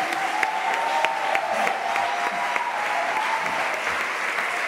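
A church congregation claps steadily and densely to praise the Lord, a loud sustained wash of applause with a faint tone held underneath and some crowd noise.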